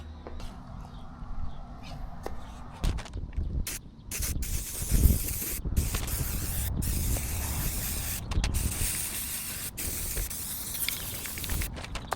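An aerosol spray can coats a Toyota Land Cruiser 100 skid plate in a DIY paint job, with close steady hissing bursts cut by short pauses and rattles over about twelve seconds.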